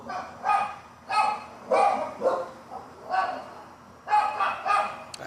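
A dog barks in bursts, about eight yaps and woofs in quick, uneven clusters, loud and close, with no talk over them.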